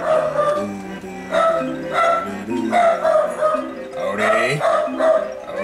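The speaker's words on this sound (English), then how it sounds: "Oh, he's barking. Ignore him." A dog barks repeatedly indoors in the background while a Banjo-Kazooie game plays, a string of close, fairly loud barks and yips in uneven bursts with faint game music underneath.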